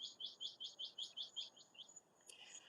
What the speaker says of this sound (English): you could hear things chirping back here